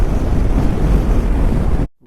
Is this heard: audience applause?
no